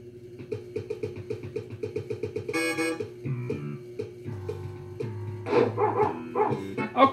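Dog barks from the Super Nintendo game Paperboy 2, a rapid run of short synthesized yips over bouncy chiptune music, getting busier and louder near the end.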